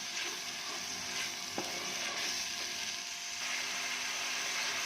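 Spice masala with tomato frying in a pan, a soft, even sizzle throughout with one faint stirring scrape, quiet and close.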